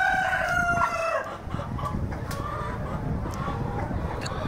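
A tiger-breed rooster crows on a poultry farm, its drawn-out call ringing out at moderate distance, followed by scattered clucks and farmyard noise under a low background rumble.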